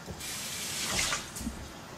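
Tap water runs into a sink as fresh cilantro is rinsed for Dominican pollo guisado, a brief close rushing stream with a slight swell in the middle and no talking.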